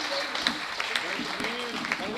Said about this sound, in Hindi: अरे एक बार सारा सदन तालियां बजा कर भाई।